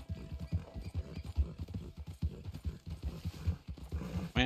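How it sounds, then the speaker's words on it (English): Horse hooves clop in a quick steady rhythm in the video game Red Dead Online, moderately close and continuous, with no talking. "What's your horse's name, old? Was it Paco"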